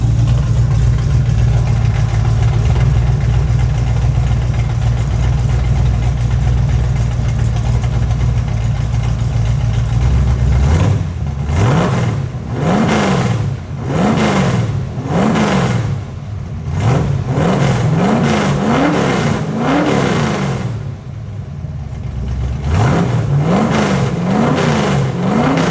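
A Factory Five MKIII Shelby Cobra replica engine idles with a loud steady rumble, then revs repeatedly in rising and falling bursts close by.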